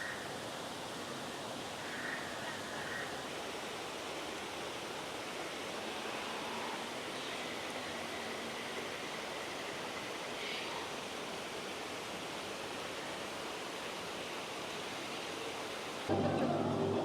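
Ride ambience on the Na'vi River Journey boat ride in Pandora at Animal Kingdom, Walt Disney World: a steady, even wash of flowing water and soft environmental noise throughout, with a louder burst at the very end.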